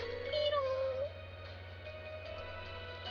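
A cat in the Kanon visual novel game lets out one clear, rising and falling meow that lasts under a second, over a steady background music bed.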